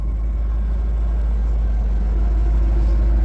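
A squarebody Chevrolet Suburban engine runs while the truck drives, giving a steady, loud, low rumbling drone with no breaks and no talk.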